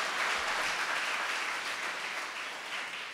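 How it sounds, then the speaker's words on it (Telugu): A church congregation claps together during praise, a steady broadband wash of applause that holds at an even level throughout, slightly fading toward the end, with no clear voices over it. "హుషారుగా చప్పట్లు కొడుతూ స్తోత్రాలు చెప్దాం"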